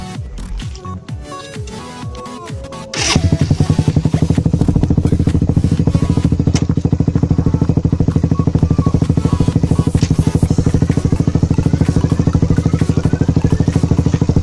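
A motorcycle with a Racing Boy chain stabilizer pulls away and rides at a steady pace, its engine drone loud and continuous with a light rattle from the chain running through it.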